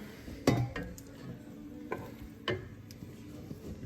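Chicken tortilla soup simmers in a pan with a soft bubbling sizzle. A few sharp utensil clinks and stirring knocks land at uneven intervals over it, and no one speaks.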